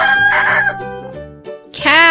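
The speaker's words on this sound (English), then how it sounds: "rooster" A rooster crows loudly and close, a long strained cock-a-doodle-doo call that rises again at the end, with nothing else around it.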